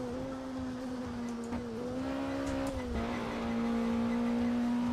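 A Caterham race car in a VR sim racing game drones steadily at a constant engine pitch, with brief shifts and light tire squeal, holding a sustained, fairly loud tone that rises slightly toward the end, with no talk.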